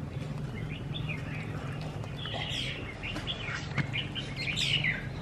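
Several caged red-whiskered bulbuls chirp and warble in quick, bright, overlapping phrases, close and steady over a low background hum.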